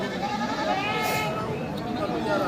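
Goats, including Black Bengal and crossbred kids, bleat repeatedly amid a dense, noisy crowd, with people talking all around in a busy outdoor livestock market in northern Bangladesh.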